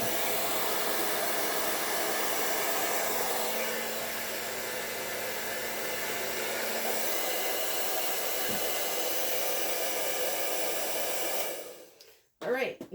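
A blow dryer blasts air onto an acrylic paint pour, a loud, continuous whooshing roar that runs steadily for about eleven seconds and then cuts off abruptly, followed by faint handling noises.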